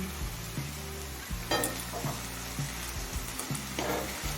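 Two eggs go into a hot pan of cooked vegetables and sizzle steadily, with a few scraping stir strokes over a continuous low hum, close and moderately loud.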